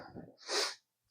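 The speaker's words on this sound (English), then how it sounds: "I'm about to sneeze with all this dust." A single close sneeze from a woman sorting dusty fabric, a short breathy intake followed by a sharp hissing burst, then silence.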